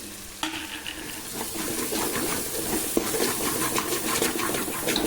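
Masala simmers in a pan as sambar powder and red chili powder go in while cooking an ash gourd palya, with a steady sizzle and scraping stirs, a sharp clink near the start and occasional light taps.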